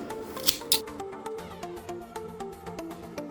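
Scissors snip through the elastic waistband of a pair of leggings being sewn, with two sharp close cuts early on, followed by quieter rhythmic clicking and rustling of fabric.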